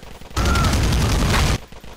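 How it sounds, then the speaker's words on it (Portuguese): Dense gunfire in GTA IV multiplayer erupts as a loud, continuous rattle of overlapping shots lasting just over a second, close and harsh, with quieter background before and after. "Tô atirando o povo aqui, tô atirando o povo sem dó, moço."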